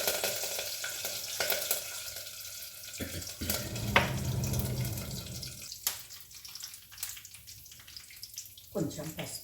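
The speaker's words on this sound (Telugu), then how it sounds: "ఇదిగోండి తాలింపు అవుతుంది" Oil tempering with curry leaves sizzles in a pan as a hissing, crackling frying sound that rises and fades, mixed with stirring and clinks at moderate loudness, with a person talking intermittently over it.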